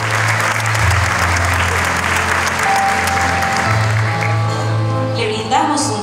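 Sustained, loud applause from the audience at a school graduation ceremony in Chile, with a low musical hum and some voices mixed under the clapping.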